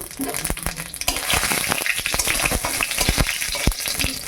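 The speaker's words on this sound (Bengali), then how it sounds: "তেল গরম হয়ে গেছে, লঙ্কা দিয়ে দিলাম আর দেবো ফোড়ন।" Dried chillies and whole spices (phoron) sizzle hard in hot oil, a loud steady crackle for about four seconds with sharp pops and spits scattered throughout, and no voices.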